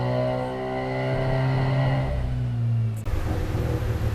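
A Mazda FC RX-7 with a rebuilt fuel system and a Hellcat fuel pump runs on a dyno, producing a loud, sustained engine drone whose pitch shifts and then changes abruptly near the end.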